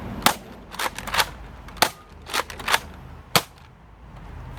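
A K26 Roto Fury toy dart blaster fires LighTake Mega Darts in a series of sharp, close pops, about seven shots in irregular bursts, some in quick pairs, with quiet gaps between.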